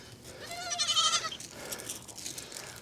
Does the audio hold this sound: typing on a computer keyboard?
no